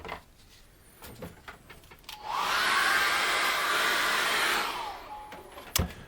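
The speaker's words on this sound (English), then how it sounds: "I'm going to have to dry that off with a hairdryer" A hair dryer switches on and roars steadily for a couple of seconds before winding down, with a few knocks and clicks around it.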